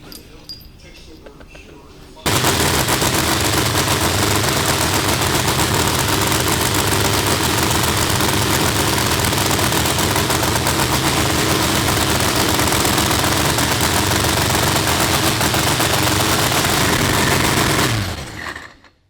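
A loud, sustained exhaust roar from a newly installed Pro Line Power Plant supercharged engine kicks in after a quiet start, holding a harsh, rumbling drone for about fifteen seconds before cutting off.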